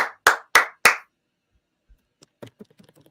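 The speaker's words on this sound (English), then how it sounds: "I'm clapping" One person claps four sharp, evenly spaced times while holding a laptop, close and dry, followed by faint scattered clicks and taps.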